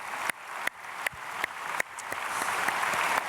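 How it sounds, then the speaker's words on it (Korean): Church congregation at a Sunday worship service claps in thanks for the senior pastor, a steady crowd applause that swells slightly toward the end, with no talk over it. "우리 또 감사와 사랑의 박수 한번 보내드리겠습니다"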